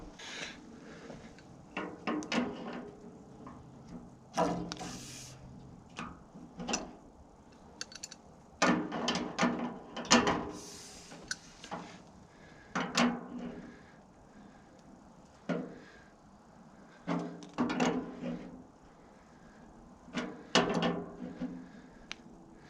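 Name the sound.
wrench tightening fittings on water heater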